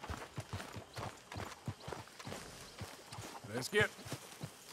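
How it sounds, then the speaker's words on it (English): Horse hooves clip-clop in a steady walking rhythm in Red Dead Redemption 2, close by, with a voice talking briefly over them. "Get the horse out of here."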